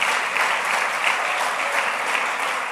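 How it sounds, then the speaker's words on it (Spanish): A church congregation claps together during a Sunday service, a dense, steady wall of applause that holds evenly from start to finish without a break. "El aplauso grande al Rey que vive por los siglos de los siglos."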